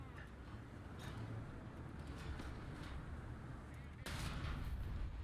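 Tank cannon fire and distant gunfire in the video game War Thunder, heavy booms and cracks over a constant loud rumble of engine and battle noise, with a sharper blast near the end.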